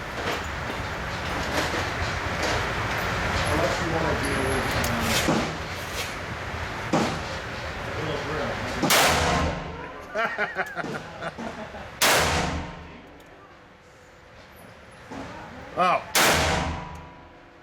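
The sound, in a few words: snub-nose magnum revolver gunshots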